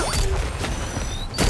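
Mechanical weapon reload in the game Nikke: close metallic clicks, clacks and a creaking ratchet-like slide in quick succession, with a sharper snap near the end.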